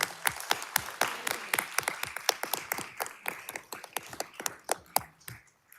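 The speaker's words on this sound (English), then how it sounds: "can we all give them a round of applause for the amazing job they've done?" A board meeting audience gives a round of applause, with a modest number of distinct, crisp claps in loose rhythm. The sound is fairly close and fades out near the end.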